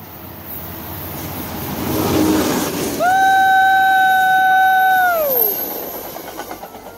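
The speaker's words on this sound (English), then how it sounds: "The train's coming." A train approaches outdoors, its rumble rising and then a loud, sustained horn blast sounding for about two seconds before fading, with rail noise continuing underneath.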